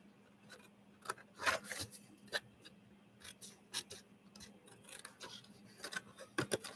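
Scissors snip through paper while a craft box is trimmed, giving a series of short, quiet cuts and rustles spaced irregularly, close by against a faint low hum.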